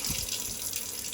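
Mains water running from a tap at the start of a drain-down, a steady close hissing gush with a brief low splash at the start, continuous and fairly loud with no voices.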